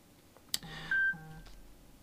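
A phone sounds a sharp click, then a short electronic notification beep and a softer tone, close by and fairly loud against a quiet room.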